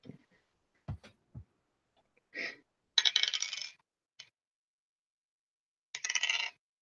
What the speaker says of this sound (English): go ahead and roll the healing dice again and take the higher number of the healing for both yous